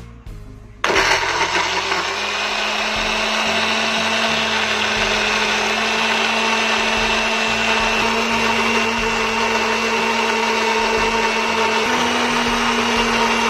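A blender grinding spice paste with a little water switches on abruptly and whirs loudly and steadily, its motor pitch shifting slightly near the end.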